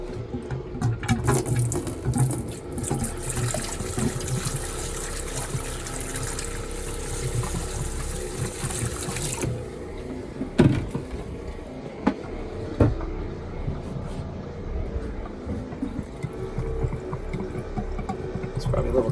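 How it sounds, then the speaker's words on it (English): On a boat, a bilge pump drains water out of an ice chest with a continuous gushing, splashing rush of flowing water and a mechanical hum beneath it, fairly close, easing toward the end amid a few clunks. "I'm gonna turn on my bilge pump"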